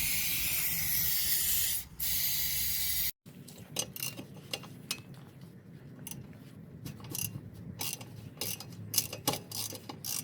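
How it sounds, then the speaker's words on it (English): WD-40 aerosol spray hissing onto a rusty hand brake cable clamp on a Honda Jazz, one long spray with a short break, then a sudden stop followed by scattered clicks, taps and short mechanical rattles. "it's proper rusty, so we're going to apply some WD-40 on it."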